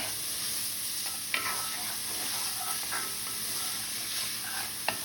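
Celery and onion sizzle steadily as they fry in a pan for lasagna, with a wooden spoon stirring through them and a couple of sharp scrapes and clicks standing out against the constant hiss.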